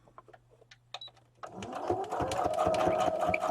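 After a few soft handling clicks, a sewing machine starts stitching a fabric tag, a fast steady mechanical clatter building up and running on close by.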